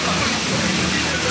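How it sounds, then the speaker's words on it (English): A small stream of running water, like a little river, flows beside a path at a Disney resort, making a steady, close, broadband rushing wash that does not let up, with no one speaking over it. "Oh, look, it's like a little river."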